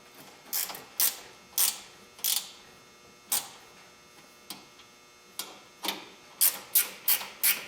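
Metallic clicks and ratcheting snaps ring out while bolts are fastened on the handle of a DeWALT 52-inch toolbox, about a dozen sharp close ticks in uneven bursts with no talk.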